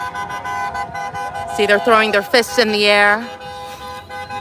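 Hype cars at an ICE protest near MacArthur Park, Los Angeles, sound their car horns in a cluster of short toots followed by a longer sustained blast. The horns are moderately near and mixed with a person talking over the crowd.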